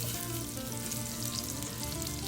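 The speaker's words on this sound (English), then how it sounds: "we're going to begin to put the fennel in here just like this" Fennel frying in butter and olive oil, giving off a dense, continuous sizzle that holds steady throughout with no voices.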